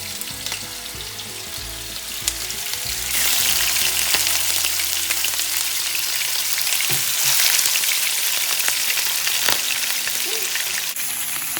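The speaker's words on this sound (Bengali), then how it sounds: "কিন্তু মাছটা খুবই তেল ছিটতেছে" Fish frying in hot oil, a loud, dense crackling sizzle that swells suddenly into steady spattering and popping, close and continuous with no talk.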